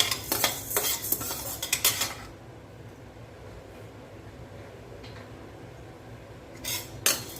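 Black urad dal dry-roasted in a pan, rapid metallic scraping and clattering of a spoon against the pan for about two seconds, then quiet with faint background, and a short burst of stirring near the end.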